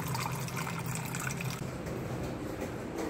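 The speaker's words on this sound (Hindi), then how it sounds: "और इसमें पानी भर लेते हैं।" Water poured into a bowl, a steady close trickle and splash that continues evenly throughout.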